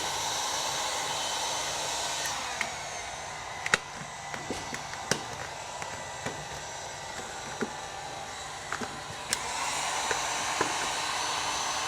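A heat gun blows a steady, loud airy roar while heating vinyl wrap on a Tesla Model 3, with scattered small clicks and taps over the continuous hiss.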